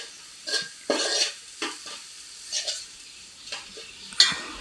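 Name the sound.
stirring chilli and coriander powder into fish curry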